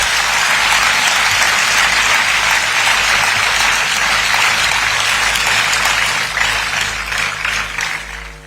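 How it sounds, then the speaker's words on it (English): A large crowd applauds graduating awardees and their parents at a medical institute's convocation hall, loud dense clapping that stays strong for several seconds and then starts to fade toward the end. "a big round of applause for the awardees and their parents"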